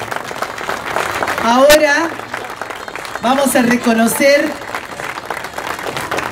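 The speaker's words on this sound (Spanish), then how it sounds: "otra vez el aplauso" Audience applause fills a hall during a museum's 15th-anniversary celebration ceremony, a steady wash of clapping that swells midway while someone speaks over it through the sound system.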